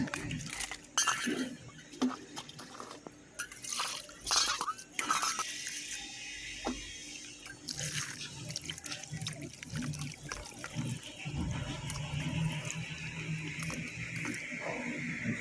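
Fish being rinsed with water, twice over, in a village kitchen while preparing a country prawn curry, with running and splashing water and scattered clinks of a vessel, moderately close and steady, with no talk.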